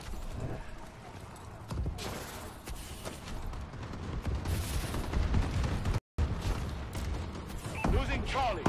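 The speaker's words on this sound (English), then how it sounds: "Enemy bombing run overhead." Enemy bombing run explosions in a first-person shooter video game, a dense barrage of booms and crackling blasts under continuous gunfire and game noise, with a brief dropout midway.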